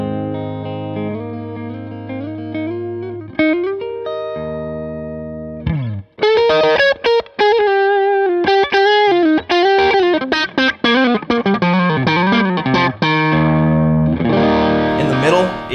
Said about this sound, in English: Up in the neck P90 pickup, it's warm.